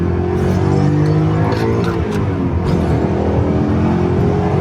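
A 2003 BMW E39 M5 engine pulls hard under acceleration from inside the car, a loud, deep, rising drone with strong harmonics that dips briefly mid-pull and then climbs again, with no talking.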